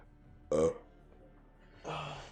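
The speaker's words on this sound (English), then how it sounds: "Sorry for all the burping." Two loud burps from a player during a Call of Duty: Warzone session, the first short and sharp, the second longer and rougher after a pause of about a second, with quiet room tone between them.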